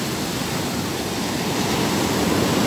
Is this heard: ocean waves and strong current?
yes